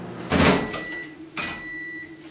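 A microwave oven finishes cooking pumpkin, giving two clear beeps or chimes about a second apart, with a faint hum between them.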